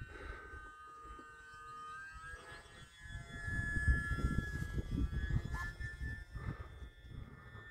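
A UMX Timber X RC plane flies at about half throttle on a rainy day, its steady high electric whine drifting in pitch overhead while rain and wind rumble underneath.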